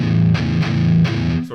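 Distorted electric guitar chugs out a palm-muted main riff, a loud, tight, repeated low crunch with brief picking attacks and no voice.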